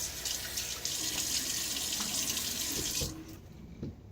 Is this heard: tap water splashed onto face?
yes